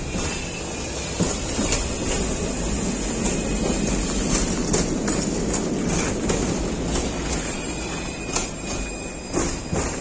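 A KTM-23 tram rolls along its rails in Ufa, with continuous wheel rumble, clickety-clack beats and thin squealing tones, loud and close.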